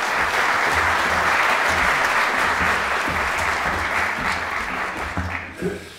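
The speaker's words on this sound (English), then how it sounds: "Now, with a warm round of applause, I invite Professor Vandewalle to take the f" A large audience applauding steadily, dense clapping that stays loud before tapering off near the end.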